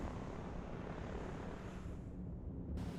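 Helicopter in the real-time strategy video game Line War, a steady, loud whirring engine and rotor drone that continues unbroken for about three seconds.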